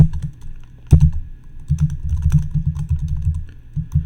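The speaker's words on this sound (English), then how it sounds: "I'm going to type ls:/echo lol like I did before" Steady typing on a computer keyboard at a terminal, a continuous run of close, soft key clicks with a brief louder tap near the start and no talking.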